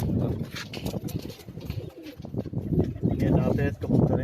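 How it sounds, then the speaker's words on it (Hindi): White Indian pigeons coo in low, throaty repeated calls close by on a Karachi rooftop, mixed with background chatter and voices. "सफ़ेद कबूतर हैं, इंडियन जालदार कबूतर हैं"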